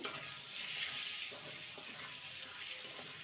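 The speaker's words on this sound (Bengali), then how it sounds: "হিং দিয়ে ভালো করে নেড়ে নেব" Vegetarian cabbage curry with tomato and a pinch of asafoetida being stirred in a pan, a steady wash of hiss and light scraping under faint running-water-like noise, close and continuous without talk.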